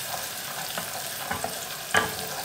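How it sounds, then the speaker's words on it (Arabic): Onion frying in a pan while being stirred, a steady soft sizzle with occasional scraping clicks of the spoon, fairly quiet and close with no talking. "هبدا احمر بقى البصله كده لحد ما تاخد معايا لون بالشكل دوت كده"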